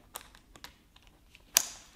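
A front chest buckle on a K&F Concept camera backpack snaps shut with one crisp, close plastic click. Faint fumbling clicks of the straps being handled come just before it.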